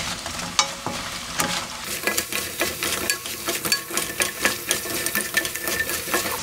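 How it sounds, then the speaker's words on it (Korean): Fried lotus root pieces are stirred through hot, bubbling syrup for Korean lotus root gangjeong, producing a close, continuous sizzle and bubbling crackle with a busy rhythm of scraping and stirring and no voices. "바로 따뜻할 때 섞어드렸습니다."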